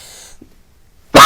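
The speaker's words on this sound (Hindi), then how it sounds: "खांसी भी आ रही है" A single sharp cough bursts out loud and close from someone feeling unwell, preceded by near silence and a faint breath.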